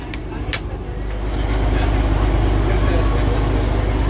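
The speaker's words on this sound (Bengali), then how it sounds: "দেখো লাইন দিয়ে নৌকা যাচ্ছে, আর এখানে কিন্তু ফার্স্টেরটাই শুধু ইঞ্জিন রয়েছে" A boat engine drones loud and steady as a lead engine boat tows a line of rope-tied boats on a Sundarban river, the rumble swelling and then holding constant.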